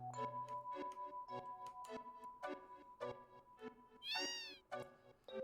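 A cat meows in the Final Fantasy VII game near Icicle Inn, repeated mews over a ticking clock and a soft melodic game background, with one longer drawn-out cry near the end.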